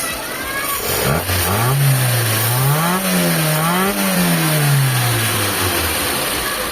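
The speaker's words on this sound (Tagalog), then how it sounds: "Ay, isang rev pa mga boss." A Mitsubishi Lancer engine revs up loudly and close, rising and falling through several smooth swells in pitch before settling back, with a steady mechanical drone underneath.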